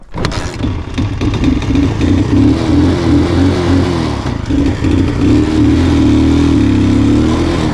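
An Alfa Romeo car engine runs after a seized-engine repair, loud and steady, with a continuous low hum and slight swells in revs across the whole stretch.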